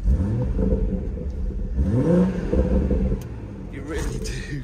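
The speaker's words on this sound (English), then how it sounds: "pop it into sport mode there and then sport mode pops up on the dash and then we can just rev it up" A 2016 BMW M240i in sport mode revs up through its twin exhaust pipes, giving a couple of rising, rumbling swells close by, with a person talking over it.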